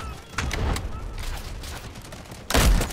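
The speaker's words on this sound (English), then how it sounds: "the sniping is so satisfying" Sniper rifle shots in the video game Delta Force crack as a few sharp bursts over low in-game battle noise, one shot early and a louder one near the end.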